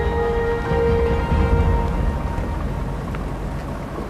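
A ferry crossing open water among archipelago islands gives off a steady, low engine rumble mixed with broad wash and water noise. A faint tonal hum sits above it, and no one speaks.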